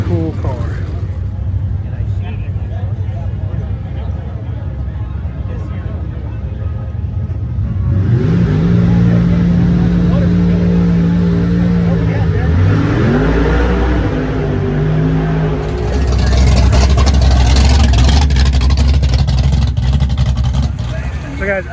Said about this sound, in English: twin turbos on a 505 cubic inch Pontiac in a 74 GTO